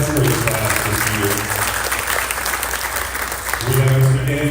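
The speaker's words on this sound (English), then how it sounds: "A big round of applause for Mr. Bargeman, who's going to be leading the 10th grade class this year." Applause for a teacher at a high school orientation for 10th and 11th graders, a steady wash of many hands clapping in a room, with a voice speaking over it at the start and end.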